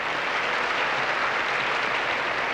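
Applause from a large pageant audience welcoming Miss Universe 1986 Barbara Palacios, a dense, steady wash of clapping that stays loud and even throughout, with no voices on top.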